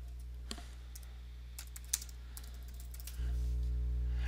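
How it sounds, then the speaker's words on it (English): Typing a project name on a computer keyboard, heard as light, sparse key taps up close over a steady electrical hum that grows louder near the end. "I type a name for the project."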